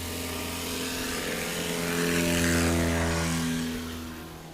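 A STOL light aircraft at an airpark competition runs its engine at full takeoff power, a loud, steady propeller drone that swells to a peak and then eases slightly.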